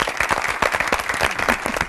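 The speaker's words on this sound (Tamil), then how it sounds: "உண்மையிலேயே இவங்களுக்கு ஒரு பெரிய கைத்தட்டல் கொடுத்தா நல்லா இருக்கும்" Studio audience at a Tamil television talk show applauding gynecologists, a dense, steady burst of many hands clapping close and loud, with no talking over it.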